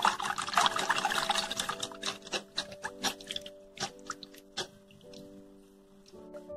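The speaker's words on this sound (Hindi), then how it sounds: "मैंने हैंड बीटर यूज की है," A hand beater whisks an egg yolk into milk for pancake batter, making a loud wet sloshing at first that breaks into a series of quick rhythmic taps and squishes.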